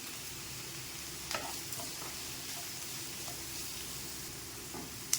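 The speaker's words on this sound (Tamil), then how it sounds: "வரமிளகா பூண்டு எல்லாம் போட்டேன். ரெண்டையும் ஒன்றா வதக்கலாம்." Dried red chillies and garlic sauté together in a pan with a little salt, a quiet, even sizzle with a few soft stirring knocks and a brief clink near the end.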